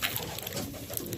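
Racing pigeons, distance birds, cooing softly in a race loft, a low murmur under light rustling and background noise.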